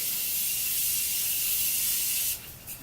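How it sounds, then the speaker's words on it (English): Morphe setting spray misted onto a face in a steady, close hiss lasting a couple of seconds before cutting off, followed by a faint tail. "I'm going to spray my face with some setting spray."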